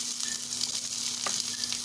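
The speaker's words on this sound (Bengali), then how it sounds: "পেঁয়াজকে ভাজি নেছি" Onion frying in hot oil in a village-style pumpkin flower dish, a steady close hiss of sizzling with a faint clink or two, no talking.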